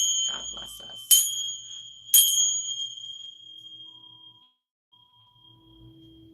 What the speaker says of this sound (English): Now I'm going to use my sacred bell to cleanse the energy